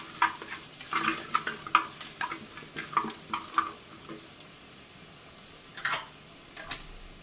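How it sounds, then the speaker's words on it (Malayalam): Garlic frying in a pan while being stirred, with a faint sizzle beneath clusters of sharp spatula clicks and scrapes, busy for the first few seconds, then pausing before a last burst. "ഇതൊരു ഒരു മിനിറ്റ് ഒന്ന് വെളുത്തുള്ളിയുടെ പച്ചമണം മാറുന്നവരെ ഒന്ന് ഇളക്കി കൊടുക്കാം"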